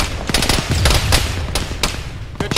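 Gunfire in the military shooter game Arma 3, a rapid series of sharp, loud shots and bursts with a deep low rumble underneath, several distinct cracks spaced unevenly across the span.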